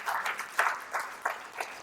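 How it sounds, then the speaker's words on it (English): Scattered audience applause at a motivational talk, a few distinct claps in loose rhythm, fairly faint and thin rather than a full ovation. "Y'all can give a round of applause for that."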